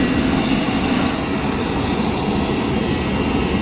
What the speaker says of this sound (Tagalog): Ito yung eroplano papuntang Batanes. Ayan o, maliit na eroplano.